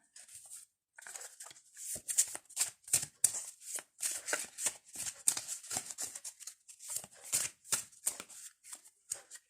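Tarot cards being shuffled and drawn: a continuous run of crisp, papery riffles and flicks close up, with short pauses between bursts and no voice.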